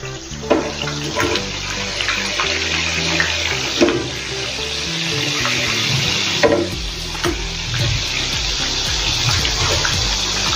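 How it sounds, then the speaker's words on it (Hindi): Chakli spirals deep-frying in hot oil until golden and crisp, a steady, loud, close sizzle and bubbling that runs continuously, with occasional soft clinks from stirring. "इसको हम गोल्डन ब्राउन होने तक तलेंगे, अच्छे से क्रिस्पी होने के लिए"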